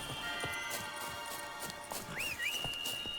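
Horse hooves clip-clopping in The Witcher 3, a steady patter of footfalls under a constant game background, with a brief whinny-like rising tone near the end.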